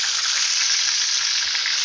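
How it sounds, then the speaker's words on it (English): Seasoned chicken legs fry in hot oil with a dense, loud, continuous sizzle and crackle, close up and with no talking over it. "There you go, we got them legs frying."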